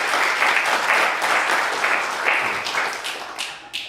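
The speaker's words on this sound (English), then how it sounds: "Can I get a round of applause for everybody who's gone so far?" An audience at a poetry performance claps in a lively, continuous round, close and fairly loud, with individual hand claps audible in the mix, tapering slightly near the end.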